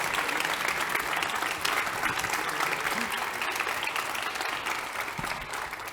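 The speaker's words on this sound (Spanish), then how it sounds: "yo quiero pedir por favor un aplauso para nuestras ponentes, Cristina Dayac y Patricia Espinosa" Steady, dense audience applause for two speakers at a conference on Europe and the 2030 Agenda in Cornellà, continuous and full for several seconds.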